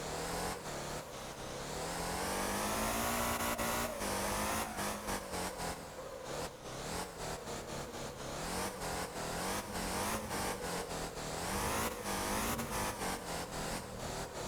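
A car drifting in the Motor Town driving game: a steady, loud engine howl that rises and falls in pitch as the car slides and revs, with sharp tyre-scrub and gear-change cuts running throughout.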